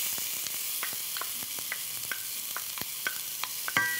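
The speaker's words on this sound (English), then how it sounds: "start on the onions with a little bit of extra virgin Greek olive oil" Chopped red onions sauté in Greek extra virgin olive oil with a steady, close sizzle, broken by regular stirring scrapes and clicks every half second or so, and no voices.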